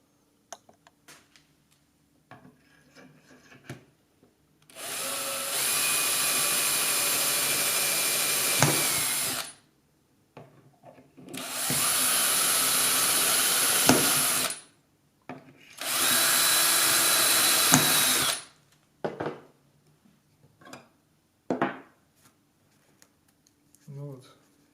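Power drill boring holes in a pipe through a drilling guide, three separate bursts of whining drilling of several seconds each, with quiet clicks and handling noise in the pauses between them.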